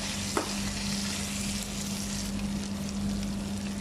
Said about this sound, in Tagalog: Lagay natin yung sibuyas na ginisa natin kanina.